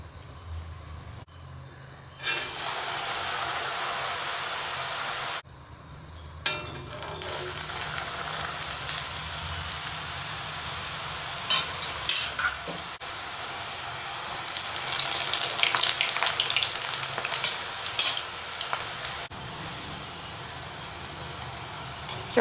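Murukku deep-fry in a pan of hot oil, a broad, rushing bubbling that rises and falls across the stretch with a few brief pauses and occasional clatter nearby.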